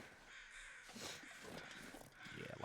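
Crows caw over a quiet, airy background at a plane crash site in The Long Dark, the calls faint and distant and scattered across the scene.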